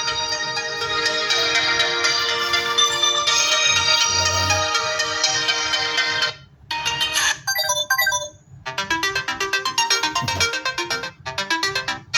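Ringtone from a Samsung Galaxy Z Flip 4 phone, a bright melodic tune playing loud and close for several seconds, pausing briefly, then resuming with quick repeated notes.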